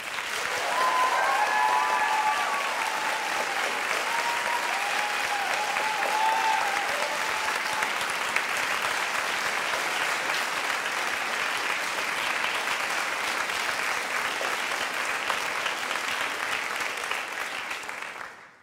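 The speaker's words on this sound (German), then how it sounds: "Klatscht, ja, so laut ihr mögt." Sustained loud applause from a studio audience at a televised poetry slam show, clapping steadily for about eighteen seconds to vote for a performer, with a few faint cheers early on before it tapers off at the end.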